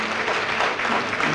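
An audience at a book presentation event gives a steady wash of applause, dense and even throughout, with no talk over it.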